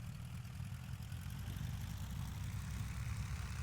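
A1R Mini Imp light aircraft engine in Microsoft Flight Simulator, a steady low propeller drone held evenly as the throttle advances, continuous and moderately faint with no talking.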